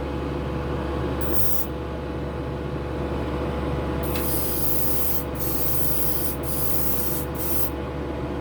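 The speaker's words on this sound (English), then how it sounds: "That's spraying pretty good." A spray gun hisses steadily, laying down Gaahleri Kaleido metallic paint thinned slightly, a continuous close airy spray with brief breaks in the trigger, no talking.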